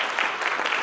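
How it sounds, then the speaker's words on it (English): A school audience at an awards evening claps briefly for teachers. The applause is a short, dense patter with no voices. "could we give them a round of applause?"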